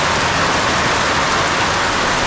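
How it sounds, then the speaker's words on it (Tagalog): Heavy rain pours down in a dense, steady hiss, loud and close, with no other sounds. "nabutan na tayo ng malakas na ulan"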